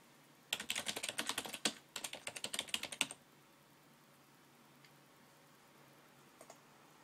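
Typing on a computer keyboard comes in two quick bursts of rapid close key clicks lasting about two and a half seconds in all, then near silence with a couple of faint isolated clicks.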